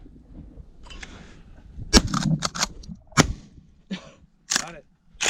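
A pump-action shotgun, a budget Chinese-made gun, fires at a thrown clay target outdoors on a range; two sharp, loud cracks stand out among clicks and handling noise, with someone speaking briefly in between.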